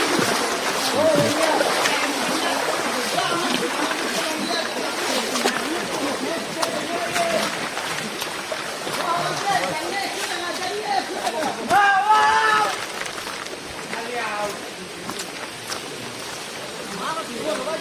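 Continuous broadband rush and splash of water at a waterfall in Cachar, Assam, steady and fairly close throughout, with people talking over it.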